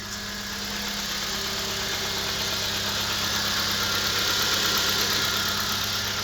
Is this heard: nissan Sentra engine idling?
yes